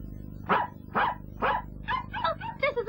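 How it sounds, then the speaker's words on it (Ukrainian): A small cartoon dog barks repeatedly, first three sharp separate yaps at a steady pace and then a quicker run of higher, yippy barks, loud and close over a low background hum. "Подивись, її собачка."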